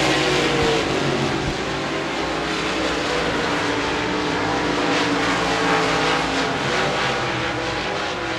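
Modified race cars lap the Devils Bowl track in a 2017 USA Modifieds race, their engines a loud, continuous roar and drone that rises and falls slightly as the field passes.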